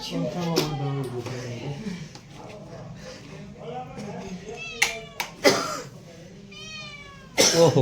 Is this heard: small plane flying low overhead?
no